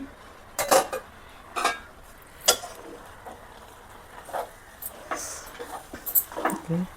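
Boiled cassava (tapioca) being mashed in a pot, with scattered metallic scrapes and clanks of a utensil against the pot coming in short irregular bursts, close and moderately loud, with no talk.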